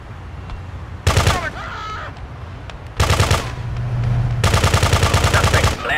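Machine gun fire in the top-down video game Grand Theft Auto 2: loud rapid bursts of automatic gunfire in three separate volleys, the last one long and steady, each burst a fast rattling stream of shots.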